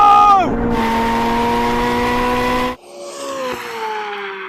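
Corvette Z06 and Ford GT drag racing, a loud engine whine that drops at a gear change, holds steady, then cuts off abruptly and returns fainter, with voices mixed in.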